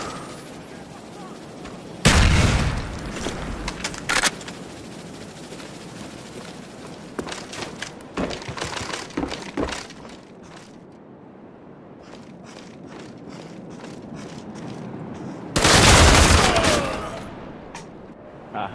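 Gunfire in the video game Black Ops, with loud bursts of shots and heavy blasts scattered irregularly through the clip, mixed with quieter game sounds.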